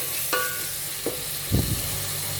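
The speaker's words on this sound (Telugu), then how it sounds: "ఇప్పుడు ఈ పుదీనాను కూడా దీంతో పాటు ఫ్రై చేసుకోవాలి" Mint leaves fry with spices in a pan for Rayalaseema-style masala rice, a brief steady sizzle with a few spoon scrapes and clinks.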